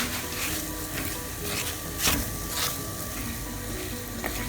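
Clams roasting dry in a pan as the liquid cooks off, a steady close sizzle and crackle with a few sharper pops and stirring scrapes, no voices.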